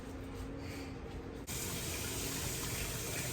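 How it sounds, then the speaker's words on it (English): Water runs from a kitchen tap during hand washing, a steady hiss that suddenly grows louder and fuller halfway through as the flow increases, with no talking. "let me wash my hands"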